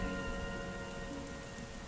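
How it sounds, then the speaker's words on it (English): Rain falls in a steady, soft, hissing wash at a low level, constant and even throughout, with no voices over it. "The rain is still falling, travelers"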